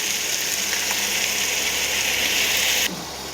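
Chopped tomato and capsicum frying in hot oil as spice paste is added, a loud, close, continuous sizzle that drops suddenly near the end into a quieter hiss.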